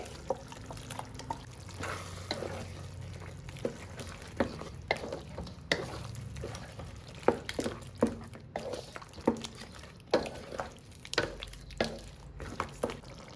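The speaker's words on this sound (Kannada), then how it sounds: "ನಾನು ಟೊಮೊಟೊನ ಫ್ರೈ ಮಾಡೋಕ್ಕೂ ಹಾಕಿದ್ದೀನಿ" Tomato frying in a pan for chicken gravy, with irregular sizzles, pops and scraping stirs, steady and close, no talking.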